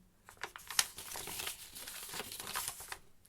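A piece of paper handled and crinkled close up, with a run of soft rustles and sharper crackles and no voices.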